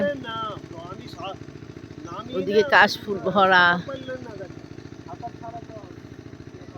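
Engine-driven pump bailing water out of a field in a rural Cumilla village, a steady rapid mid-pitched chugging throughout, heard under a person speaking in the middle.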